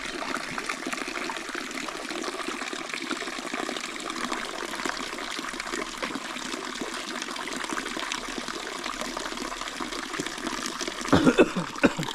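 Water running steadily from a notch cut into a bamboo node at Vallée de Mai, a continuous close trickle and gush that holds even throughout, with a few louder splashy knocks near the end.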